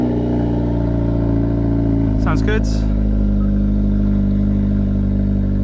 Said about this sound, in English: we're going to do a quick cold start and we'll see how it sounds